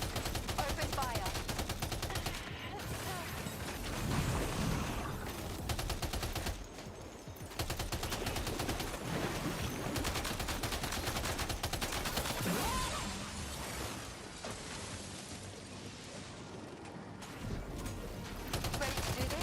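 Sustained automatic gunfire in the video game Death Stranding 2: On The Beach, a dense, loud barrage of rapid shots running almost continuously, with brief dips, mixed with game sounds and voices.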